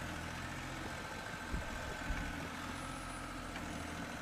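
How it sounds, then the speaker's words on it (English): A six-wheel 6x6 Macrobat tractor's engine runs with a steady, even mid-pitched drone and a couple of faint knocks, heard alone without voices. "This is a 6x6 tractor."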